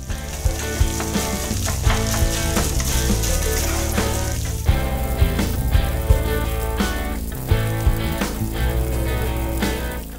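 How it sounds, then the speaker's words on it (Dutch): Rice stir-frying in a hot pan, a steady loud sizzle with scraping stirs and clacks of a utensil against the pan, heard up close with music-like tonal layers running underneath and no talk. "Goed er doorheen bakken."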